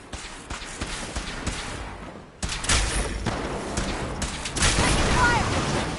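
Gunfire in Fallout 4 crackles in scattered loud shots and booms over continuous combat noise, with voices shouting underneath.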